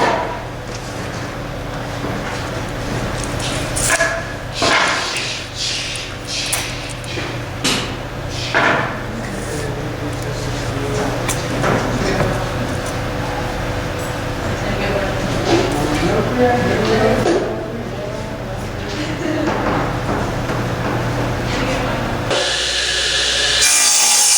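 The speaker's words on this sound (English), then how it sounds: "Trimming the edges, then we will mark them with dados." Repurposed wood boards have their edges trimmed with a tool, giving repeated rasping and scraping strokes, fairly close and steady, over a low continuous hum, with a sharper shift near the end.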